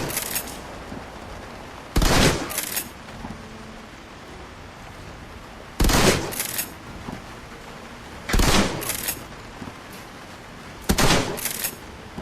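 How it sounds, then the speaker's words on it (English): Shotgun blasts in the video game Shadowrun: Hong Kong, four loud, sharp bursts spaced a few seconds apart, each with a quick follow-up report, over a low background hum. "let's bust out the shotgun"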